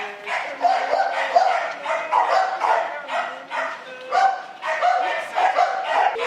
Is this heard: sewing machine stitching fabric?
no